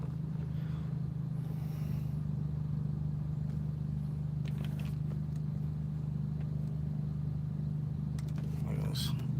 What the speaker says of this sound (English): Gnarly traffic today.